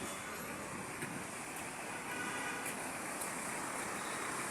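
Road traffic crawling through a heavy jam on a city street, a faint, steady wash of engine rumble and road noise from a distance, with a few light, high tones over it.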